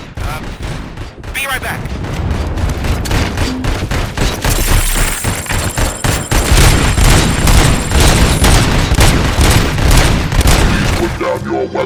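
Heavy gunfire from the ED-209 enforcement robot in RoboCop: Rogue City, loud rapid bursts and booms hammering on almost without pause, with a tonal whine over part of it and brief talk near the start.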